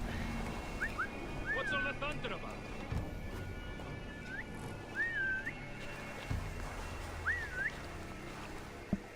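Short rising and falling whistle calls sound several times in Assassin's Creed Valhalla, standing over steady outdoor ambience with faint footsteps, in brief separate bursts spread across the stretch.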